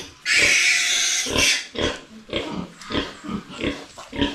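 Farm pigs, sows and their newborn piglets, in a pen. A long, loud, harsh squeal opens, then a run of rough grunts and snorts follows in uneven bursts nearby.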